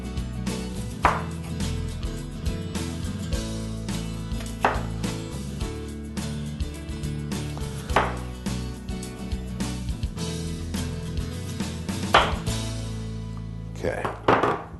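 A knife chops through pork chops on a cutting board in a kitchen, giving sharp, evenly spaced thuds about every two seconds, with a quicker cluster of cuts near the end over a low background hum.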